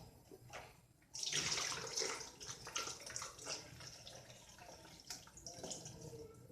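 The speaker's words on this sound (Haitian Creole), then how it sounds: "On va mettre de l'eau avant." Tap water runs steadily into a container, starting abruptly after a quiet moment and continuing as a close, rushing splash with small shifts in flow.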